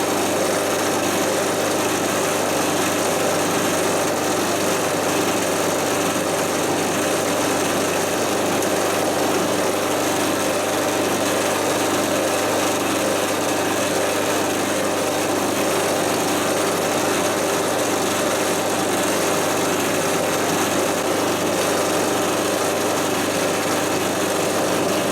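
A tiny drill bores slowly through a motorcycle tank bolt on a Suzuki DR650 Safari tank, a loud, steady, high-pitched whir running unbroken and close for the whole stretch.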